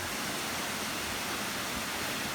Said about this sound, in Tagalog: At yun na ho, ang falls na sinasabi